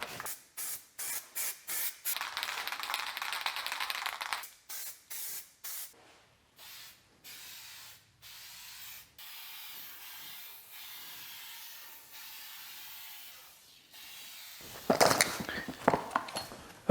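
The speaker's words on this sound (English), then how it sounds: "I'm gonna get this ground up and then shoot it with some paint." Spray paint hissing onto a 1966 radiator support in a garage, coming as a rapid series of short bursts, then a long steady spray, then a final loud burst close to the mic with no talking.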